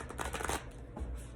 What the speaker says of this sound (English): let's shuffle this deck up a little bit